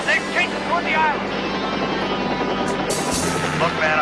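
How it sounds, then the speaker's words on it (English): A helicopter in flight during a TV action-drama chase scene, heard as a loud, continuous rotor and engine roar that stays steady throughout, with brief whooshing sweeps over it. "Look, man, our chopper's hit."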